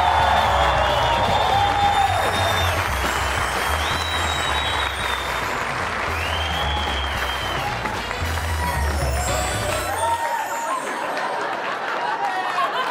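Loud studio audience applauding and cheering at a live comedy-music show, a dense sustained clatter of clapping with whoops and crowd chatter that cuts off abruptly near the end.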